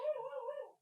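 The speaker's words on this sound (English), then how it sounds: "Sorry, that's the dog" A dog howls close by, one short rising and falling whine that holds steady, then tapers off into silence in under a second.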